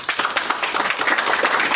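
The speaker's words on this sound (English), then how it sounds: "Every one of them deserves a round of applause." Crowd applause at a Ron Paul liberty rally, a dense wash of clapping from many people, brief and steady throughout.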